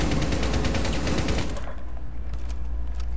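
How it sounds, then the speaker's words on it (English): Rapid automatic gunfire bursts loudly in the video game Rainbow Six Siege, a dense fusillade of close shots lasting about a second and a half before cutting to quieter scattered mechanical clicks. "My gun go bang!"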